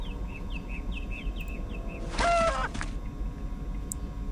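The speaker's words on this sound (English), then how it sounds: "That bird is really starting to annoy me." Repeated short chirping bird calls in the video game A Final Unity, a thin high series of tweets followed by a louder, brief squawking cry, set over a steady low ambient hum.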